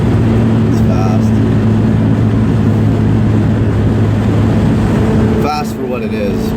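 A turbocharged Toyota Tercel engine drones loudly and steadily with a strong low hum throughout, heard from inside the car, with talking over it.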